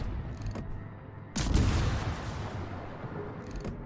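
Video game gunfire, a sudden loud burst of shots that rings out and trails off, with fainter shots before and after.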